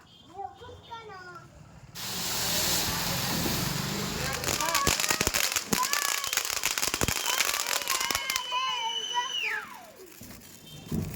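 Diwali firecrackers and fireworks burst at home in a rapid, loud string of crackling pops over a sustained hiss, with whistling rockets rising near the end and children's voices audible early on.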